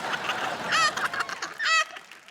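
A chicken clucks in two short bursts of rapid, nasal squawks close by, with brief quiet gaps and faint background rustle in between.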